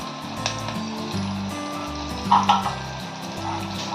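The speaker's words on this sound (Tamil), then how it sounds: "நல்ல ஒரு 2 நிமிஷம் வரையும் வெங்காயம் நல்லா வதங்கட்டும், ஒரு பொன்னிறமா வரட்டும்" Onions fry in a pan until golden for paneer biryani, giving a steady, even sizzle with a brief louder crackle partway through and a low background hum underneath.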